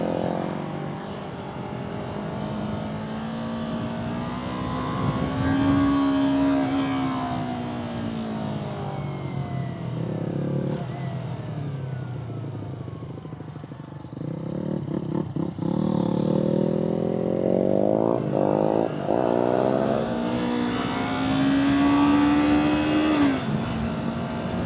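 A Yamaha R3 sport bike engine during wheelie riding, its close, loud note climbing and falling in long revving sweeps, then surging again near the end, with no talk over it.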